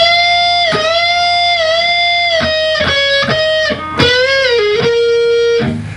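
Slow electric guitar lead, a run of about eight picked notes with bends and slides, each ringing into the next, clean and close, ending in a quick muted strum.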